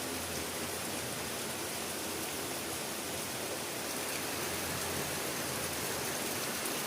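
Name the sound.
heavy rain falling outdoors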